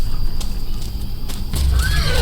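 A horse neighs in the Forest Ranger Services game, a loud whinny rising near the end over a low rumbling background, with a faint clip-clop of hooves.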